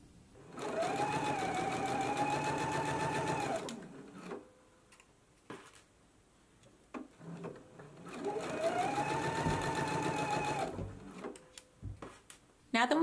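Sewing machine stitching the facing of a slip dress at a 1/3 inch seam allowance, two steady runs of rapid rhythmic needle clatter separated by a quiet pause with light handling sounds.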